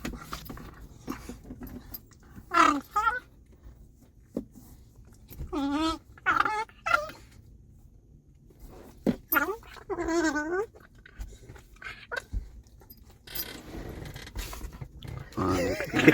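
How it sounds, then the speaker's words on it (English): A corgi lets out strange, warbling whines and grumbles in several short bursts, separated by pauses, with a little talk around them. "If you guys know corgis, they make the weirdest fucking noises."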